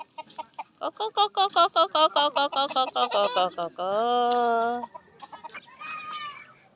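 Chickens cluck in a rapid rhythmic series at early morning in Purulia, India, followed by a longer drawn-out call from a rooster, fairly close and clear.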